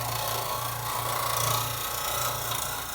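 A hand scraper drags across a metal surface, lifting shavings with a continuous close rasping scrape that holds steady for several seconds, with a low hum underneath.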